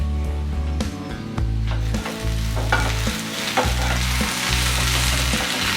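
Sliced okra shallow-fries in olive oil, crackling under loud background music with steady tones and beats.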